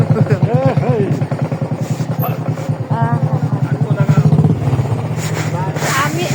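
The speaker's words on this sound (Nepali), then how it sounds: "हाम्रो काकाले बाइक बिसाउँदै हुनुहुन्छ" A motorcycle is brought in and parked at a house in a hill village, its engine running low and steady beneath people talking nearby.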